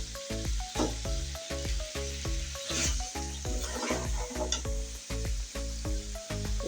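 Chicken meat for a curry with green banana sizzles as it is sautéed in a pan, with repeated stirring scrapes and clicks over a steady hum. No one speaks.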